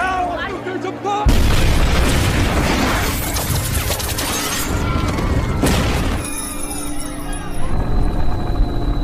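A sudden deafening bomb blast near a tower erupts, followed by a long roaring rumble and crackling debris that fades before another burst near the end, in an action film.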